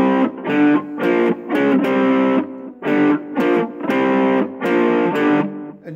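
A distorted electric guitar plays a riff, a series of punchy chord stabs in the familiar stop-start rhythm with short gaps between them. Loud and close, with no talking.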